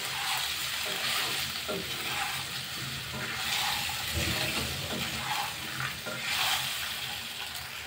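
Rava balls are stirred in a pan with a steady sizzling, frying hiss, and a spoon scrapes and swishes through the mixture in repeated strokes, close and continuous with no talking.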